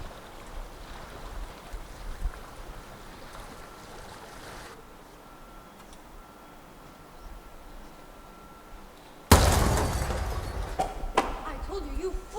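A boat smashing ashore in a staged theatre play: after quiet watery ambience, a sudden loud crash of surf-like noise bursts in and continues roughly, with a few sharp knocks.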